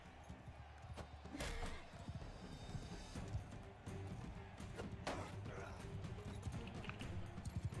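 A horse gallops in the game Realm of Thrones, its rapid rhythmic hoofbeats close and steady throughout, over a dense bed of battle noise.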